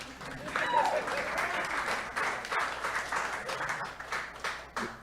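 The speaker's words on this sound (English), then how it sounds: "Y'all go ahead and clap." Audience at a public school-district forum clapping, a dense crowd applause that swells early and gradually thins, with a few scattered voices mixed in.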